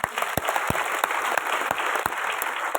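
Enthusiastic audience applause at a direct-selling business event, a dense steady wash of many hands clapping with sharp individual claps standing out, loud and continuous throughout.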